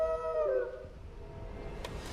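A dog howls in the video game Final Fantasy XVI, a short tonal wail that fades quickly into low game ambience.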